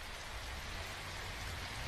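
Steady rain falls outside a family home in an animated sitcom, a continuous even hiss with a low rumble and no voices.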